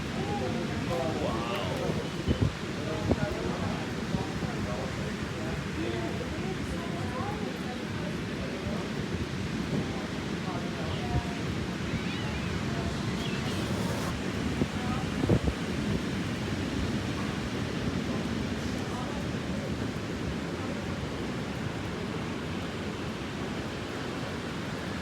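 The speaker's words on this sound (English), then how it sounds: "Man, this storm is just brewing right now." Stormy wind roaring steadily across a beach with ocean surf churning beneath, loud and continuous with wind buffeting the microphone, a voice speaking briefly over it.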